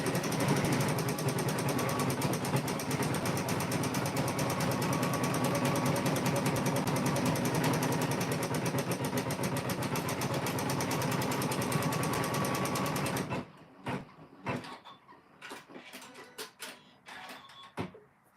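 A Janome M17 sewing machine quilting a block in the hoop runs as a steady, loud, continuous mechanical whir with rapid stitching chatter for about thirteen seconds, then stops, leaving scattered soft clicks and handling noises.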